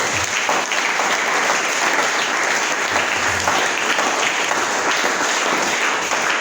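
A church congregation applauds at an evangelist's gathering, producing sustained, loud, dense clapping that continues evenly throughout without pause.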